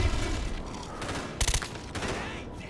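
Gunfire in the Wii version of Call of Duty Black Ops, played in a team deathmatch on the map Cracked: a dense burst of rapid shots in the middle, then a shorter follow-up burst over steady game ambience.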